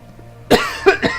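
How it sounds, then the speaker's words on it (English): A person coughs into a microphone, one sharp cough followed by two quicker ones, close and loud against a quiet, low hum. "I apologize again for the coughing into the mic"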